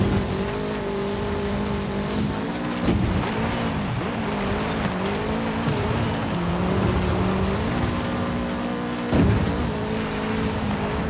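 A race car in Forza Horizon 5 brakes hard and corners, its engine droning and shifting pitch with tire squeal and skidding, loud and continuous throughout.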